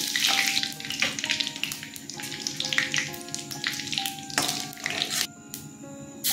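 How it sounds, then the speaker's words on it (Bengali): Bay leaf, dried red chilli, onion, cinnamon and white cumin crackle and sizzle in hot oil as a tempering for a potol and chholar dal dhoka dalna, a close, steady frying hiss with bright spitting bursts and no talk. "তেজপাতা, শুকনো লঙ্কা ফোড়ন দিয়ে দিচ্ছি।"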